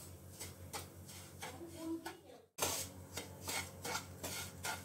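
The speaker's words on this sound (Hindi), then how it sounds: "हमें इसे लाइट ब्राउन तक भूनना है, ज्यादा रोस्ट नहीं करना है, लाइट रोस्ट करना है इसे हमें।" Mawa being stirred and roasted in a pan for gujia, with repeated scraping and rubbing strokes of a spoon against the metal in a steady rhythm, under someone speaking.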